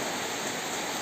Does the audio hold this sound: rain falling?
yes